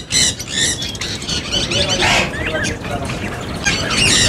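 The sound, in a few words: finches and Java sparrows at a Bahawalpur bird market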